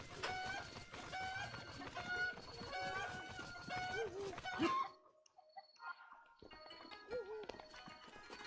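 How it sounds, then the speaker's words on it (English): Cucco clucking and flapping wings in the video game Zelda: Breath of the Wild, busy bird-like clucks and squawks over rustling, a brief near-silent gap, then more clucking calls. "I can hear the sound of a cuckoo flapping his little wings."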